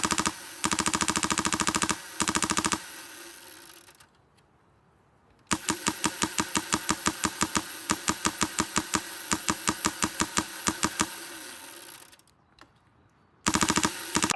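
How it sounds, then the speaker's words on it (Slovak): LCT RPD airsoft machine gun running on HPA, fired outdoors in rapid mechanical bursts of sharp clacking shots, with a long sustained string in the middle and pauses of quiet between bursts. "ja teda ešte prihodím samostatnú streľbu teda vonku, aby to bolo pekne vidieť, ako sa z tej zbrane strieľa"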